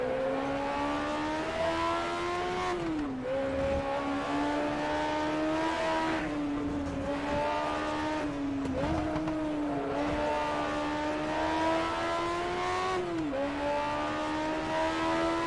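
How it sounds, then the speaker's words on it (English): A BMW Group 5 race car engine in the Automobilista racing game screams at high revs throughout, climbing steadily through the gears with brief dips at each shift, loud and unbroken with no talking. "Just an ever-increasing frequency of noise coming from that beautiful BMW engine."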